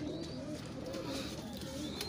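Soft, steady cooing of a maker pigeon, a favourite bird among a keeper's pigeons, continuing in low rounded pulses close by, with a quiet background hum and no clear talk.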